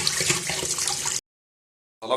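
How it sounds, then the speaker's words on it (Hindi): Boiled spaghetti being drained and rinsed under cold water: a gushing, splashing pour for about a second, a sudden silence, then the water resumes briefly at the end. "पानी इसका ड्रेन कर लेंगे और ठंडे पानी से इसको वॉश कर लेंगे।"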